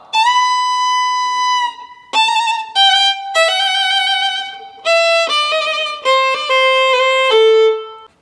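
A lone violin plays a Sârba creață passage slowly, holding clear notes. A long sustained tone opens into a descending line of separate bowed notes, close and loud, with no speech.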